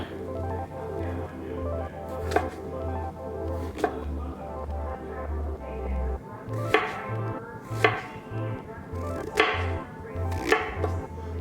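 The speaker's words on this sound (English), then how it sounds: "Trying to work on my knife cutting skills, if you guys can see that here" A knife cuts mushrooms on a cutting board with steady, rhythmic chopping and sharper taps now and then. It is close and clear, with no talking.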